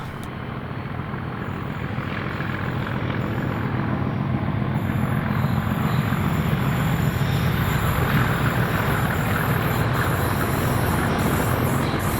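A train at Rockland Park in Largs at night, a steady loud rumble of rolling stock and wheels holding throughout, with faint high squeal over the continuous roar.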